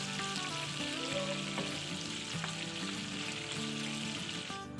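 Beef keema kababs frying in hot oil for keema handi kabab, a loud, dense, continuous sizzle close up with faint clinks and stirring, no talking.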